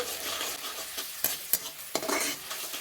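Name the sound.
stirring onion with tomato and ginger-garlic paste in pan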